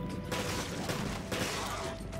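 Rapid gunfire bursts from the Resident Evil Revelations video game, a dense crackling volley lasting throughout at moderate level with no speech.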